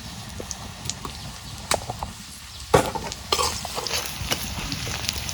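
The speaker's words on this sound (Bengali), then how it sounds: "জিরা ফুটতাইছে" Cumin seeds crackle and sizzle in hot oil in a home kitchen pan, with a steady frying hiss, sharp pops and spatula scrapes close by.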